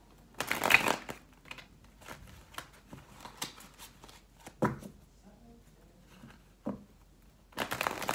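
Tarot cards being shuffled and drawn: brisk papery riffles at the start and end with soft card slides and taps between, close and moderately loud.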